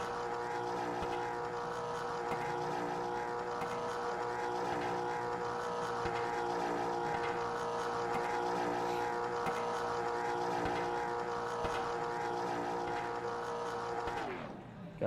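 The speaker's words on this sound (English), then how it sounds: "Deciding to do some burnouts." A late model race car does burnouts on a dirt oval in a racing sim, its engine roaring loud and sustained with a steady droning pitch before cutting off abruptly at the end; no speech.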